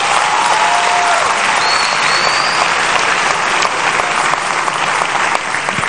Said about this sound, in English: Would you clap your hands?